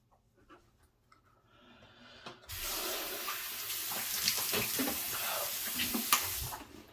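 A Merkur 34C safety razor is rinsed under a running tap. Faint handling noises give way to a steady, close stream of water splashing for several seconds before it cuts off.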